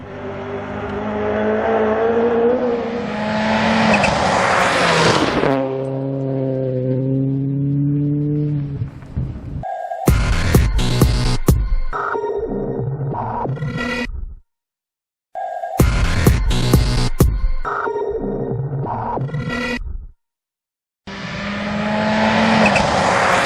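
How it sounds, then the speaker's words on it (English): Rally cars on a special stage of the Dukeries Rally 2012 BTRDA championship roar loudly as they rev, shift and tear past at close range, in separate bursts broken by short silences. "As we wait for the four-wheel drive Gold Star category to take off here at the Dukeries Rally"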